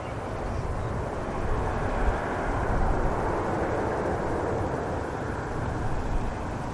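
An Airbus A320neo airliner departs Manchester Airport for Istanbul with a steady, broad jet-engine roar that swells a little and holds. There is no speech.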